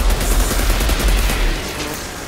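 Rapid gunfire from the video game Outriders, a dense, loud, continuous burst with heavy low rumble that eases off slightly toward the end, with no talking over it.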